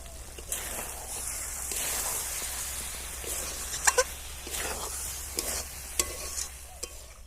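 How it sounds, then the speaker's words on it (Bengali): Elephant foot yam curry stirred in a pan after water and chopped coriander leaves go in, giving a low bubbling sizzle with several sharp spoon-against-pan clanks and scrapes, close and alone. "এবার অল্প করে ধনে পাতা কুচি ওপর থেকে দিয়ে নেড়ে আর নামিয়ে দেব"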